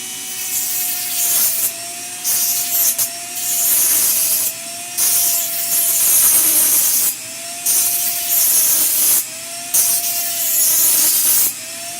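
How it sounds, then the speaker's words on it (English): A piece is ground flat by hand in loud, repeated rasping strokes, roughly a dozen back-and-forth passes with brief pauses between them and a faint tonal ring, close up with no talking. "We're gonna grind this flat."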